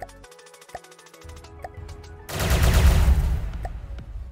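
Plasma cannon firing in the game From The Depths: a few sharp isolated shots, then a loud dense burst of rapid booming fire that swells and slowly fades.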